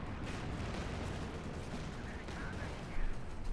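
Distant unit gunfire in the Company of Heroes 2 strategy game, a continuous dense wash of overlapping shots and rumbling battle noise, with a louder burst near the end.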